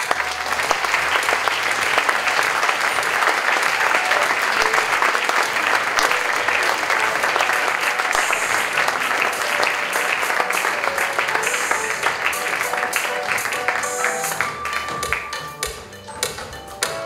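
A large conference audience claps steadily and enthusiastically as guests take the stage, a loud sustained wash of applause that thins slightly toward the end, with a few sharper individual claps standing out.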